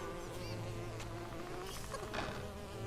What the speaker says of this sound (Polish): A pszczoła kurcze nie daje za wygraną,